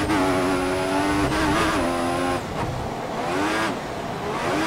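Race car engine from the F1 2014 game at the Spa circuit, revving high and steady with a whining harmonic that drops and climbs through gear changes, loud and close, no talk.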